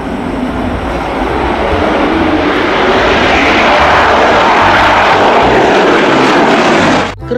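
A loud, roaring fighter jet engine rumble fills the clip continuously, swelling slightly before ending abruptly.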